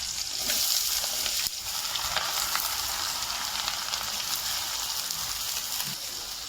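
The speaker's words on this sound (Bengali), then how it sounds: "আলু আমি তেলের মধ্যে দিয়ে ভাজবো" Small cut potato pieces frying in hot oil in a home kitchen, a steady close hiss and crackle of sizzling that runs unbroken throughout with occasional sharper pops.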